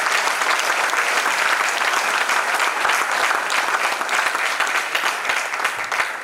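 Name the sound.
audience applause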